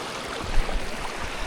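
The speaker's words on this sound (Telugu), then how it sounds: "ఈ వాటర్ దారి చూడండి ఎంత బాగుందండి ఈ కొండల నుండి వస్తుంది వాటర్" Water from a mountain stream flowing down from the hills near a tribal village makes a steady, even rushing wash with no voices.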